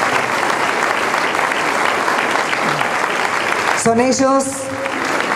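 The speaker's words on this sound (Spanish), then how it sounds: "Los recibimos con un fuerte aplauso también." Loud, sustained applause from an audience at a centennial ceremony in Villa Mitre, welcoming students and flag bearers; near the end it thins as a voice begins to speak.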